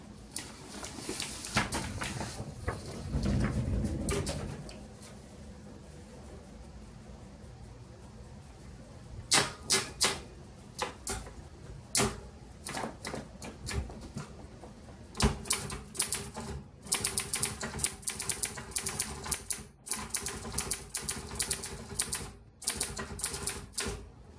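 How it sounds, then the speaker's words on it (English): Sharp mechanical clacks of a 1948 Remington Rand KMC manual typewriter, coming in quick irregular bursts with short pauses, close and fairly loud, with no voices. "I'll show you typing."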